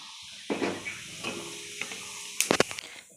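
Whole cumin seeds sizzle in hot oil in a kadai after potatoes were fried, a close, steady frying hiss with a few sharper crackling pops near the end.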